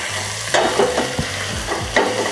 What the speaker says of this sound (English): Now you saute the mushrooms